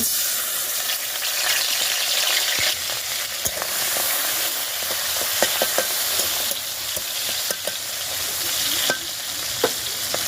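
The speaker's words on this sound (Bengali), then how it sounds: "এখানে কিছু নিয়েছি চিংড়ি মাছ, এগুলাকে এখন ভাজবো।" Prawns sizzle and crackle in hot oil in a pan, a steady frying hiss with scattered sharp pops and a few stirring clicks, close and moderately loud with no talking.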